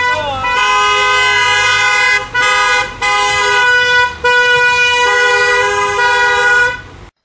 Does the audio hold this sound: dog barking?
no